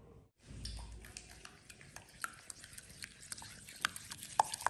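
Egg being mixed with powdered sugar in a bowl, heard as soft, close stirring and scraping with light irregular taps of the spoon. The sounds grow slightly busier toward the end.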